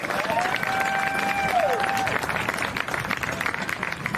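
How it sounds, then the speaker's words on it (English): A stadium crowd applauds youth soccer players during the pre-match walkout at a women's soccer match, a loud, continuous wash of clapping and cheering with a whistle-like tone sliding through briefly. "Let's give these youth players a round of applause."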